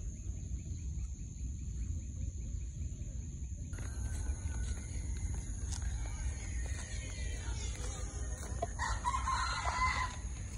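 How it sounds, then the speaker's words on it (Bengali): A rooster crows in a village, faint against a steady low rumble of background noise, with a clucking hen and some insect chirping in the distance. "এইখন মুরগি অনেক সুন্দর করে ডাক দিতেছে, সবার ঘুম ভাঙাচ্ছে।"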